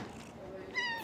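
A short, faint meow rises near the end of a quiet moment, with soft background noise.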